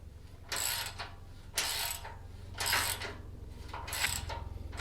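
A ratchet with a 14 mm socket on an extension unscrews front bumper bolts on a 100-series Land Cruiser, in four distinct bursts of close, rapid clicking separated by short pauses.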